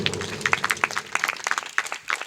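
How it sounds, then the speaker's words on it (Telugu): A church congregation claps loudly in praise, a dense burst of many hands with uneven rhythm and no talk over it. "గట్టి చప్పట్లు కొట్టి దేవుని స్తుతిద్దాం"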